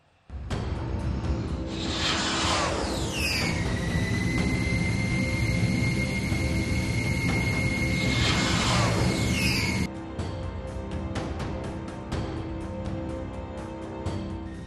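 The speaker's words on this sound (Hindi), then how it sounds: "गरजता हुआ MiG-21 लड़ाकू विमान" A MiG-21 fighter jet roars in flight, a loud, sustained engine blast with a rising whine and sweeping pitch changes as it passes, fading to a steadier rumble near the end.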